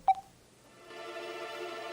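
A phone gives a short sharp beep, then a steady electronic ringing tone rises and holds, near and fairly loud, with no talking over it.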